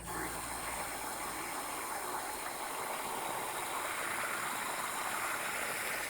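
Water running from a garden hose into the radiator of a Ford Model T, a steady hiss and gush that stays even and continuous throughout, fairly soft and close.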